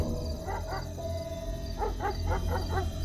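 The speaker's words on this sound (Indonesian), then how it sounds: "terdengar suara anjing menggonggong." A dog barks at night in two short bursts, then a quicker run of several barks, moderately close, over a steady low background hum.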